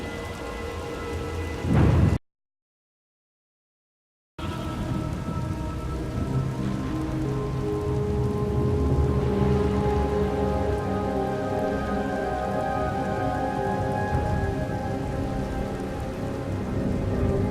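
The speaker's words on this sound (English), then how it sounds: "Hard to track them through the storm. Rain's wiped out the trail." Heavy rain pours steadily with low rumbling thunder rolling underneath in the video game SWTOR: Knights of the Eternal Throne; the sound cuts out briefly near the start, then the storm continues.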